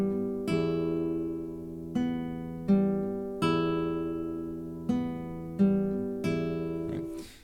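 Fingerpicked guitar pattern: a thumb-and-ring-finger pinch followed by alternating middle and index notes, repeated in clear ringing cycles, close and solo with no talking.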